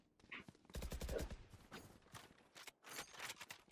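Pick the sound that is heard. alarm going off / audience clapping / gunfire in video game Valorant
gunfire in video game Valorant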